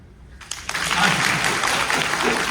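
Applause from a live audience at a student drama society performance, starting after a brief quiet moment and swelling into dense, steady clapping from many hands, close and loud.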